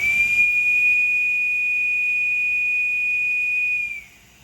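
Whistle blown by a pneumatic logic error detector, a single sustained high-pitched steady tone with a faint airy hiss, loud and close, holding for about four seconds before cutting off.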